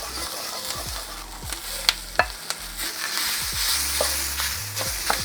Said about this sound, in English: Now let that sear off for a second on the bottom of the pan